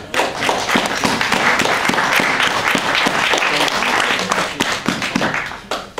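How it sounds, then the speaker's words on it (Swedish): A church congregation gives Marie a warm round of applause, loud and close, with dense clapping and some sharp individual claps standing out, tapering off near the end. "jag tycker att vi ger en gång till Marie en varm applåd."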